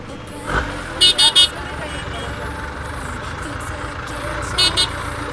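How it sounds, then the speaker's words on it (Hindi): Busy road traffic with engines rumbling steadily, a quick burst of three horn toots near the start and two more later, with voices talking over the scene. "पूरा ट्रैफिक नोडे"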